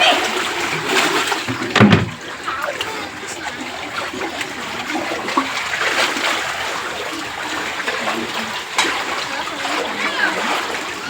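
Rainwater from an overflowing drain floods into a settlement during heavy rain, a steady rushing wash with splashes, under occasional talk.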